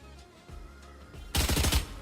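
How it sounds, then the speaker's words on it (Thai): A Spectre submachine gun with the Kuronami skin fires in Valorant: after a quiet lull, a close, loud rapid burst of shots erupts near the end. "มีเสียงยิงครับ"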